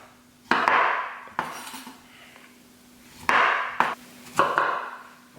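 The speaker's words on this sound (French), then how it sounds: "Une fois épluchées, on va les couper en 4." Peeled tomatoes cut into quarters with a knife on a board, five sharp separate knocks spaced irregularly over a few seconds, close and fairly loud, with no talking.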